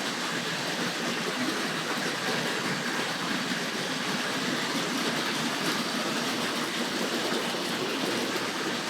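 A Hornby 9F heavy freight model locomotive hauling ore wagons runs steadily along its track, a continuous close rushing rattle that holds an even level throughout with no pauses.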